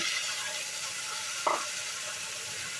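Chopped palak leaves stirred in a frying pan with spices, a soft continuous sizzle with one brief scrape of the spoon midway, close and quiet with no voices.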